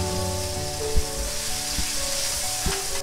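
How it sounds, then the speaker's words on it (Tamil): Chopped ginger, garlic and green chillies hit hot oil in a pan along with spluttered mustard and cumin seeds, giving a steady, close sizzle with a few soft stirring knocks. "இப்போ சாப் பண்ணி வச்சுருக்க இஞ்சி, பூண்டு, பச்சை மிளகாய் இதெல்லாம் சேர்த்து ஃப்ரை பண்ணிக்கலாம்."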